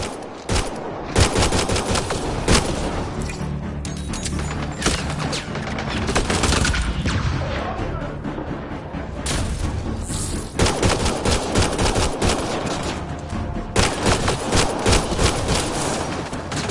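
Dense bursts of automatic gunfire and rapid shots in a Mass Effect Andromeda firefight, loud and close, continuous with short lulls and repeated volleys.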